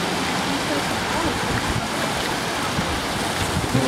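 Fountains splash in the Peterhof Gardens near the sea, a broad continuous rush of water with wind noise on the microphone, steady and fairly loud with no clear breaks.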